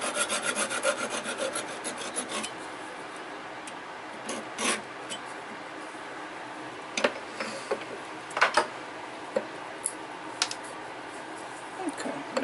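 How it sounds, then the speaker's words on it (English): Rasping hand-saw strokes cut through a small piece of bottle-opener stock, quick rhythmic scraping at first, then sparser scrapes and knocks at close range in a quiet workshop. "I'll saw off because I need to drill through there."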